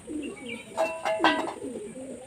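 An old pigeon from a home loft gives a brief, fairly close coo in the middle over steady background hiss. No one speaks.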